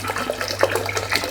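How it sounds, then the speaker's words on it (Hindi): Water poured from a vessel onto kidney beans in a pressure cooker, a close, steady splashing gurgle that continues without any talk. "अब इसमें मैं डालती हूँ थोड़ा सा पानी, बहुत ज़्यादा भी नहीं डालूँगी"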